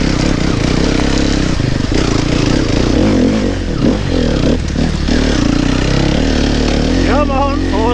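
A four-stroke enduro dirt bike engine revs and labors on hard enduro terrain, loud and close, with rising and falling throttle bursts and some scraping clatter. Voices shout over the engine noise.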